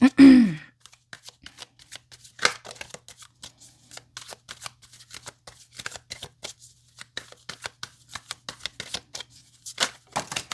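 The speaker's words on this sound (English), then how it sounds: "I'm going to shuffle a little bit more, then I'll cut the deck" Tarot cards are shuffled steadily, a long run of soft riffling and tapping, with a brief voice at the very start.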